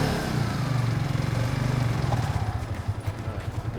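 A manual-clutch motorcycle engine revs high while the clutch is let out slowly, a steady throbbing drone that settles into a quicker, pulsing chug as the bike pulls away, loud and near.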